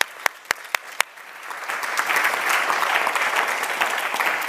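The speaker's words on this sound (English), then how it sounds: "I would just like everybody's applause to them." A few sharp separate claps open, then a full audience at a farewell satsang joins in for warm, steady applause that builds and holds for the volunteers doing ashram seva.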